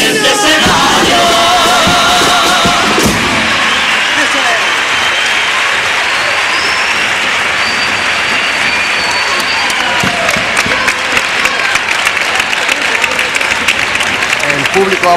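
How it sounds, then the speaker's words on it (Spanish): A carnival theatre audience in Cádiz-style comparsa contest applauds and cheers a comparsa group from Barbate, loud sustained clapping with shouts, louder at first then continuing under a commentator's voice. "Público aplaude fuertemente a estos comparsistas de Barbate."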